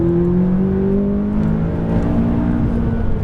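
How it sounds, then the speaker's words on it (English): A car at full throttle on a closed driving course, the engine droning steadily and loud with a rising pitch as it pulls hard, close and continuous with no talking. "squeeze the throttle, unwind, a little more throttle, full throttle down the street"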